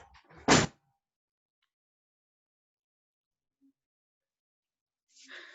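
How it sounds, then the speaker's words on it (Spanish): A single close thud as a classroom door is pushed shut, followed by long near-silence, with faint talk at the start and end. "¿puedo ir a cerrar mi puerta?"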